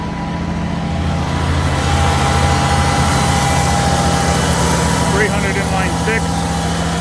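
An old inline-six truck with a stick shift, long left sitting, runs with a steady low engine drone that holds evenly throughout, close by, with faint voices in the background.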